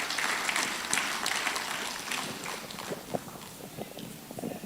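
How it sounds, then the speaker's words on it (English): Audience applause at a law week event, a soft, moderately distant patter of many hands that thins out toward the end. "A round of applause, please."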